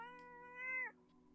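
A cat in an SCP video game lets out a single drawn-out meow, clear and tonal, rising slightly before breaking off, with quiet surroundings.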